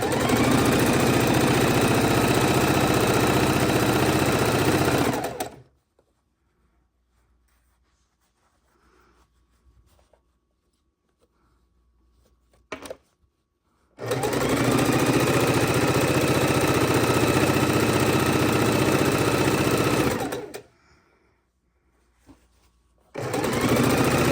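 A sewing machine stitches long fabric strips for quilt borders, running loud and steady in two sustained bursts of about five and seven seconds, with near silence between them and a third run starting at the end.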